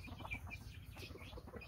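Shamo chickens clucking in a coop, with faint, soft repeated clucks and low murmuring from several birds, ending in a short sharp sound.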